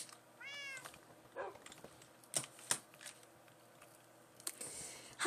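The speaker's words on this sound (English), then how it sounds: "I thought a cat was sitting in the water." A cat in a video game gives one short, rising meow early on, followed by clicks, taps and light shuffling sounds in a quiet game setting.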